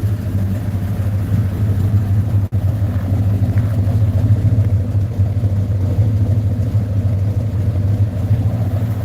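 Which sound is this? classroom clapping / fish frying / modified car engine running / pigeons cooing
modified car engine running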